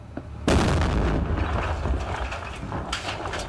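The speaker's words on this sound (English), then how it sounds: "The Marines leave the house and detonate the bomb." A bomb detonated by Marines in Afghanistan erupts in a sudden heavy blast, followed by a long rumbling roar and debris noise that slowly fades, with no voices present.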